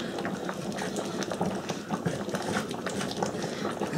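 Potatoes boiling in a pan, a steady bubbling and gurgling of water that continues throughout at moderate loudness, with no talking.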